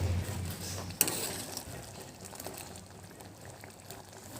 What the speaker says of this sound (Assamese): এই উতল আহিছে